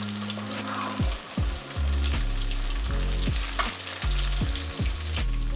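Chicken pieces for Sri Lankan chilli chicken fry in hot oil and are turned with tongs. A loud, steady sizzle runs throughout, over low tones that drop again and again, with no talking.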